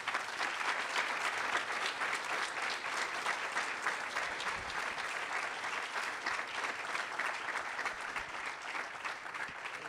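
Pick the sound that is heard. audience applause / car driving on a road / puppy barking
audience applause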